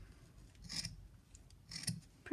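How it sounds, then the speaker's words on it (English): Two crisp snips of scissors trimming the ends of a supersized yarn tassel, close and fairly quiet, with a soft rustle of fibres between cuts. "Preferably with the scissors that are a little bit sharper."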